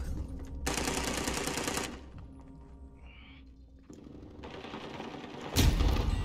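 Rapid SMG bursts in Call of Duty Warzone (Modern Warfare) ring out in two loud sustained volleys, separated by quieter game ambience, with a sharp final shot burst near the end.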